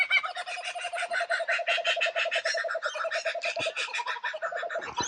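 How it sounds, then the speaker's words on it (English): Kookaburras calling near a dam in Queensland, a dense, continuous chorus of harsh, rapidly repeating cackling notes, loud and close, running throughout without any voices. "Kookaburras."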